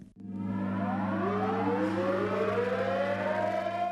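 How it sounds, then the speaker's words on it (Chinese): An air raid siren sounds across Liaoning cities for the September 18 commemoration in Shenyang, a loud, sustained wail rising steadily in pitch, heard alone. "辽宁省全省14个城市同时拉响防空警报"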